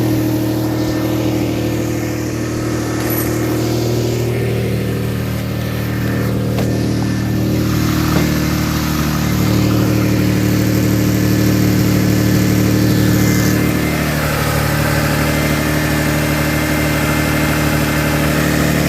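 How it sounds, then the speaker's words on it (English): A black 1999 Toyota Camry V6 with an exhaust leak at a stripped stud, running at a loud, steady idle up close, with a slight rise in revs partway through and no talk. "I got a leak up here. Yep, definite leak right there."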